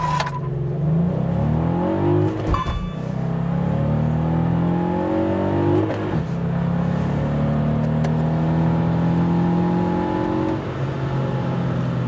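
Volkswagen Up! GTI accelerating hard in an acceleration test, the engine note rising through the revs with gear changes at intervals, loud and close with no talk.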